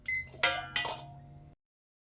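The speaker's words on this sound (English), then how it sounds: "All right, timer's going off." Kitchen timer going off with two sharp bright electronic alert bursts, loud and close, followed by a fading ring that cuts to silence; no talking.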